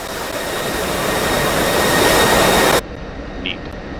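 Loud, steady roar of an F-16 jet engine in the DCS flight simulator, swelling slightly before cutting abruptly to a much quieter hum as the throttle is chopped.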